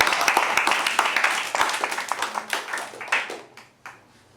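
Audience applause at an intraschool debate at Highscope School in Ojodu, Lagos: brisk close clapping that thins out and fades to a few last claps, with some voices among it.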